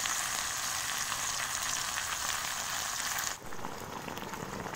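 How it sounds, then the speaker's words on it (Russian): A steady, loud sizzle of beans frying in a pan, crackling continuously up close, with a brief dip before it resumes. "жарим тут бобы"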